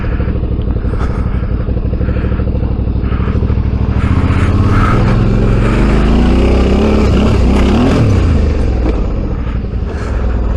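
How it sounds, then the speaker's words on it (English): A motorcycle on a test ride after a headstock bearing adjustment, with a loud, close engine roar that stays steady and then rises and falls as it revs and shifts, mixed with wind noise. "out for a test ride and the bike's feeling good"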